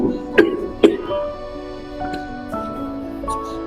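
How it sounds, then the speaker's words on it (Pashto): An old man coughs twice in quick harsh bursts near the start, then a few fainter throat sounds follow over a quiet indoor background with a steady hum. "څه کوه بابا ټوخه دې کېږي خیر دی؟"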